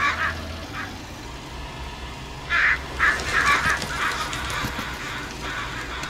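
Seabirds call in Farming Simulator 19, a few honking cries early on, then a louder cluster of calls midway, heard moderately over a steady ambient hum with no talking.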